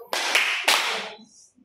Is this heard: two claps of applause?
yes